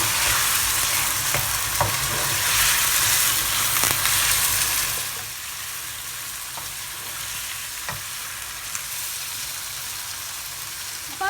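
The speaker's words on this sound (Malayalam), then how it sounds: "ഇനി നമുക്ക് ഈ ചിക്കൻ ഒന്ന് 1 മിനിറ്റ് ഒന്ന് ഫ്രൈ ചെയ്യണം" Chicken pieces for Chettinad chicken fry in a pan with a steady, close sizzle. It is louder at first, then settles to a softer hiss, with occasional stirring clicks and no talk.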